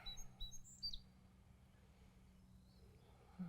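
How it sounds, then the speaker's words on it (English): Small birds sing outdoors during a yoga practice, with faint, high chirps scattered through the first second and one more near the end over a soft, steady background. "I wanted to be outdoors for this practice so that you could hear the bird song."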